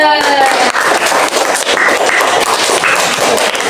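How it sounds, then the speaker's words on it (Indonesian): A classroom of students claps for a presenting group during a coding and AI lesson, a loud, busy burst of hand clapping with a teacher's voice over the start. "kasih tepuk tangan dulu untuk kelompok 2"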